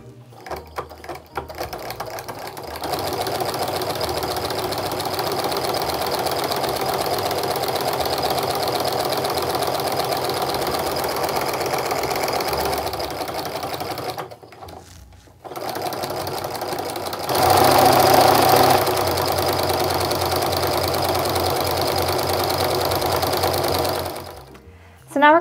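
A sewing machine sews a quarter-inch seam on charm pack fabric in long continuous bursts of rapid stitching, pausing briefly midway, with a quieter start and a short stop near the end.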